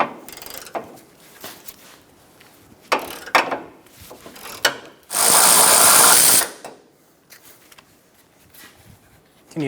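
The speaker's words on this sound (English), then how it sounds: "Using an 18mm socket, remove the front bolt for the control arm inside of the subframe." Ratchet with an 18mm socket removing a front lower control arm bolt from the subframe of a 2012-2020 Chevrolet Sonic; scattered clicks and knocks, then one sustained loud burst of rapid ratcheting.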